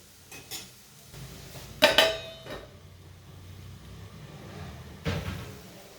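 A metal lid clanks down onto a pan of cooking safflower-leaf vegetable: one bright ringing clatter midway, framed by a few softer knocks and a later thump, with no voices.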